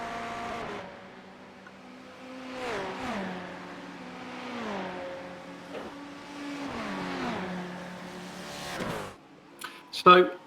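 GT3 Ferrari race car engines in a racing video game, several high-pitched revving engines rising and dropping through gear shifts in repeated sweeps, with a brief clatter near the end.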